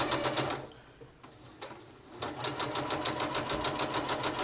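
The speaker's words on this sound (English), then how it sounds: "And now we're just going to continue to sew" A sewing machine stitches the side seam of a lined, zippered tote bag in steady rapid bursts, close and loud, briefly pausing before running on again with no talking.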